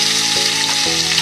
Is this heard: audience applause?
no